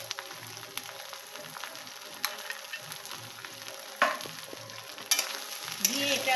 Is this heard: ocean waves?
no